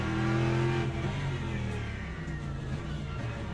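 An Aston Martin race car engine in a racing video game revs hard, giving a loud, harmonic-rich roar that holds high at first, then drops in pitch and eases into a steady drone.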